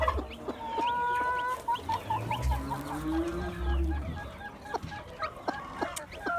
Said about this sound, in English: Look at that little white silver Silkie.